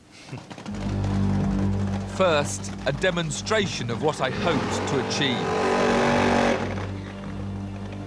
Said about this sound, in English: let's hear this wonderful engine start up